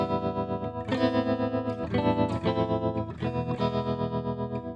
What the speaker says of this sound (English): Increasing it, the tremolo intensity kind of increases.